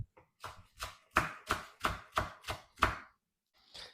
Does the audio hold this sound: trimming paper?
no